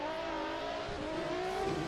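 Drift car engine at a Long Beach drift competition, a sustained high-revving engine note with a steady pitch that climbs slightly toward the end, loud and continuous with no talk.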